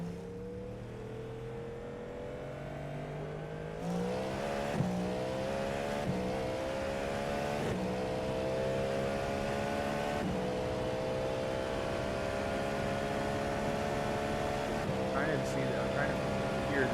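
A race car engine in the iRacing sim holds a steady, rising and falling whine through gear changes, with a voice talking over it throughout.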